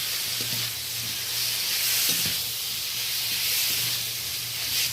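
Steady loud sizzle of fried potatoes hitting hot oil and spices in a pan, with a few soft scrapes and knocks of stirring over the continuous hiss.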